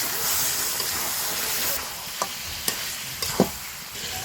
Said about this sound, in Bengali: এই তো মাংসটা কষানো হচ্ছে।